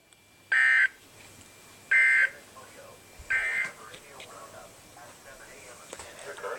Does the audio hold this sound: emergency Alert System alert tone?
yes